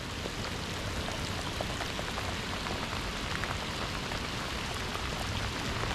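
Heavy rain pours steadily during a fishing trip outdoors, a dense, constant hiss of drops hitting surfaces at even loudness throughout, with no voices.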